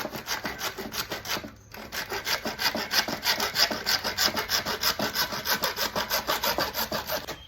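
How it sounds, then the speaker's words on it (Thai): Rhythmic back-and-forth hand sawing with a saw frame made from PVC pipe, a rasping stroke repeating steadily about three times a second with one short pause, close and loud. "สามารถเลื่อยได้จริงพี่น้อง"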